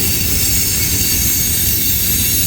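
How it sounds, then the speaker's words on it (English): A freight train on the old B&O and Pennsy lines rolls past close by, its cars producing a loud continuous rumble with wheel squeal and rail noise throughout. "And there's the end of the train coming."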